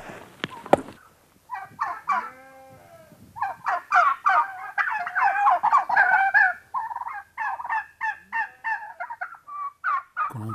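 Domestic turkeys gobble in a flock, a steady run of loud, close, rattling calls that overlap and repeat for about ten seconds.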